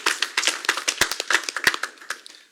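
Audience applause fills a council meeting room, a dense, steady patter of many hands clapping close by for a couple of seconds before tapering off.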